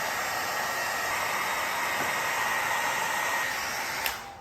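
A hair dryer blows steadily with a continuous broadband whoosh, close and loud, with a brief click near the end.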